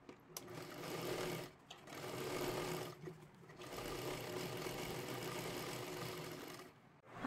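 A sewing machine stitches along the edge of a child's lehenga dress in steady, continuous runs of fast mechanical whirring, pausing briefly twice between bursts, close and moderately loud.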